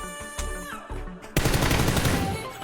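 Rapid automatic gunfire in the battle royale shooter PUBG, a loud sustained burst of shots erupting midway after a stretch of quieter game sounds.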